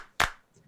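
A single sharp electronic clap sample triggered from an electronic drum kit, one loud burst that decays quickly, with near silence around it.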